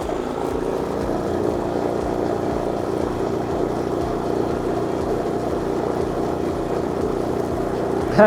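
A steady engine drone from a Hyundai HHY 9050Si inverter generator runs throughout at an even, fairly loud level, with a low mechanical rumble and no speech.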